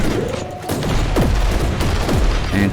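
Gunfire in the video game Warhammer 40,000: Inquisitor, a loud, dense string of repeated shots and booms over a steady background of game noise, with no talk.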